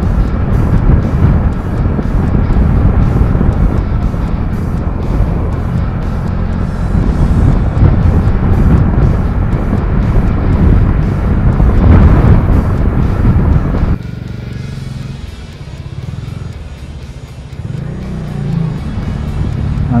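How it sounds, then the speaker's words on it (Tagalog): Strong wind roaring past a rider on a Dominar 400 motorcycle in traffic, a loud continuous rush mixed with engine drone that drops suddenly and thins out partway through. "Malakas din yung hangin dito."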